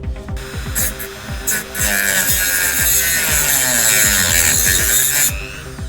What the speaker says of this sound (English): So I'm now going to grind off this screw